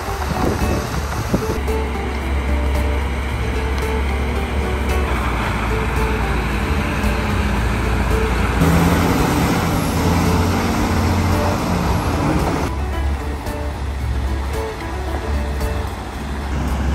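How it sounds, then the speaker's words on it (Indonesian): A heavy trailer hauls a giant machine along a highway, giving a loud, continuous engine and road rumble throughout with shifting traffic-like noise and no speech. "Diangkut dengan trailer berat, monster besi ini siap melintasi jalan raya"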